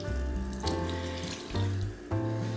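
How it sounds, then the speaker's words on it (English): Water poured from close by over a poolish bread starter: a steady splashing pour that swells in a few surges over a couple of seconds, with no voices. "it's easier when you pour your water over your Poolish"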